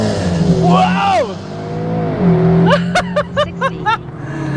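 A SEAT Leon Cupra ST estate launching at full throttle, its engine note sweeping up loudly in rising whines, then a rapid series of sharp pulsing bursts as it pulls hard and close.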